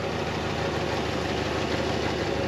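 A barn-find Ford Fairlane, run again after more than 29 years with a touchy carburetor, idles close by with a loud, steady, low rumble that holds constant throughout.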